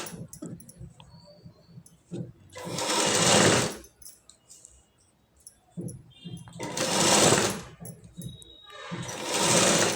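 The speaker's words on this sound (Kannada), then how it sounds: "ಇವಾಗ ನಾನು ಮೇಲ್ಗಡೆ ಪೀಸಿಗೆ ಕರೆಕ್ಟಾಗಿ ಇಟ್ಟು ಸ್ಟಿಚ್ ಮಾಡ್ತಾಯಿದ್ದೀನಿ." A sewing machine stitches a blouse panel to its lining, running in three loud, fast, whirring bursts separated by near-quiet pauses with faint handling noise.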